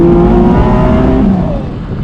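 Porsche Boxster Spyder engine revving hard during a 0-60 launch, a loud, close, high-pitched mechanical roar that sweeps through a gear and then eases slightly toward the end, with no voices.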